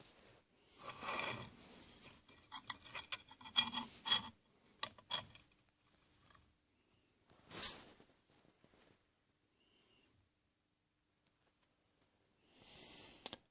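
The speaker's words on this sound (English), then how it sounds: "maybe we still need to take off a little bit with the file" A metal file rasps against the locking mechanism of a scratch-built swivel breech rifle, in several short bursts of scraping strokes close by. Sparse ticks follow, then one more brief burst near the end.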